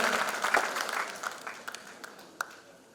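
Steady applause from a gospel concert crowd, a dense wash of clapping that slowly thins and fades, with a few louder individual claps standing out near the end.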